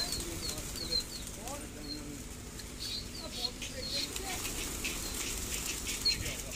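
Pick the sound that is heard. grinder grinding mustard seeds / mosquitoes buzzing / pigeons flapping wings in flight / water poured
pigeons flapping wings in flight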